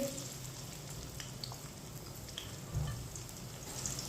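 Finely chopped onions fry in warm oil with whole cumin and coriander seeds over medium heat, a faint steady sizzle with scattered soft crackles and a light stirring clink.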